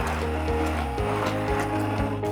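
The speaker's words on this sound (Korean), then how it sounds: "재료가 충분히 익었으면 우유를 붓고 핸디 블렌더로 부드럽게 갈아줍니다" A handheld immersion blender purees cooked kabocha squash soup with milk, a steady motorized whir with low harmonic hum and rhythmic dips as the blade churns, close and continuous.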